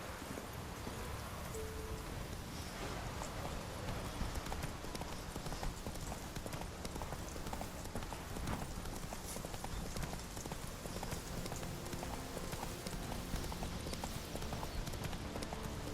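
Steady clip-clop of horse hooves trotting in the video game The Witcher 3, rhythmic and continuous over a dense, noisy background like rain.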